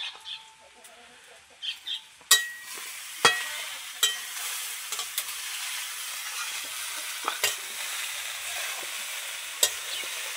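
Food frying in a pan with turmeric and salt, a spatula scraping and knocking at the metal in irregular strokes over a steady sizzle once the heat picks up, with a bird calling faintly in the background.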